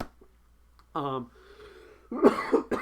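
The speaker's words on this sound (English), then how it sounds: "As I cough to death" A brief vocal sound is followed by a sudden, harsh cough near the end, close and fairly loud.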